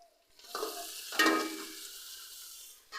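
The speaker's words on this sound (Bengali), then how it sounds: "লাল লাল করে ভেজে নেব। আমি এখানে দিয়ে দেব কাঁচা মৌরি।" Raw fennel seeds drop into hot oil in a pan and fry with a sudden loud sizzle that swells, then settles into a steady, close crackle.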